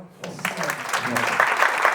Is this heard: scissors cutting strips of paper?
no